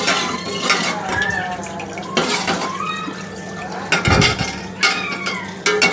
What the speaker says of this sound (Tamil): கிளறிட்டே இருக்கணும்